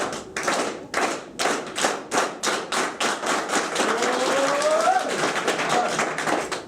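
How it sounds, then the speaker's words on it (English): Audience in a sales seminar clapping hands in unison, steady rhythmic claps that start distinct and quicken into a dense, continuous clatter as the pace builds, with faint voices underneath. "Try to clap your hands for a moment, but build it up."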